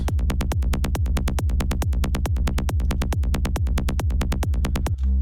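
A steady, pounding psytrance kick drum thumps in a fast four-on-the-floor pulse, with a rolling bassline filling the gaps between hits, loud and continuous.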